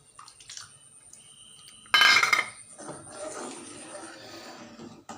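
Ground rice mixture stirred in a pot while making Madurai-style cotton seed milk, with metal spoon clinks and scraping against the vessel, a loud burst of clatter midway, then softer wet stirring.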